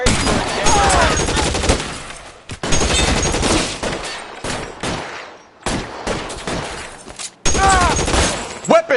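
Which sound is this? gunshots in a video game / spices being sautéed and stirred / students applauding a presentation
gunshots in a video game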